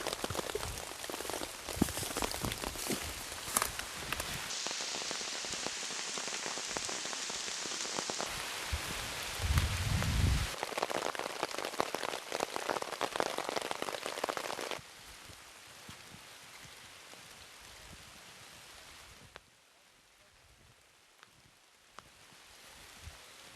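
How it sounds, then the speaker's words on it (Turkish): Continuous rain pattering on surfaces nearby outdoors in nature, heavier at first and then softening to a gentler, quieter patter toward the end. "Bu yağmurun sesinde"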